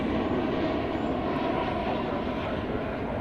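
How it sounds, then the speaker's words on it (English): American Airlines Boeing 737-800 jet at DFW, a steady, loud engine roar close by that fills the moment without any talking. "From the Twin Cities of Minneapolis-St. Paul comes American Flight 1395"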